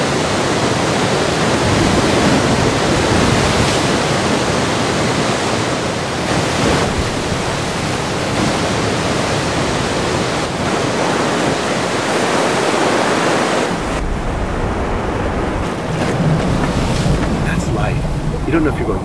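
River rapids in the Grand Canyon: a loud, steady roar of rushing, churning water, close and broadband throughout, with occasional wind buffeting and a brief shift in tone near the end.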